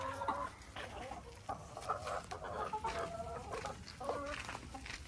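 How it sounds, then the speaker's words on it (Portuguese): Chickens clucking in a backyard coop during afternoon cleaning, soft irregular clucks and murmurs from several hens at moderate distance, fairly quiet overall. "Será que eu consigo pegar mais uma galinha pra gente ver?"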